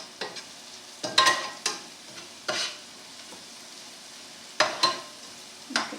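Mushrooms sautéing in butter and olive oil for mushrooms oreganato, with close, intermittent bursts of stirring and scraping over a soft, steady sizzle; no talking.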